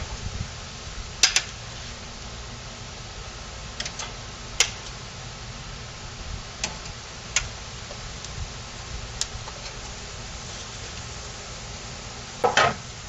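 Short ribs sizzle on hot grill grates over smoking white oak, a steady close hiss broken by scattered sharp pops and crackles, with no one talking.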